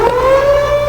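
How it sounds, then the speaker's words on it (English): A wailing siren holds a steady rising tone, loud and close, for under a second. "And we will be hearing the sirens."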